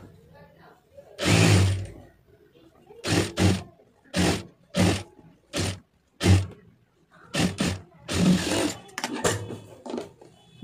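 A sewing machine stitches a lining blouse in quick, loud bursts of whirring, each lasting about half a second to a second and separated by short pauses, with a longer run near the start and another near the end.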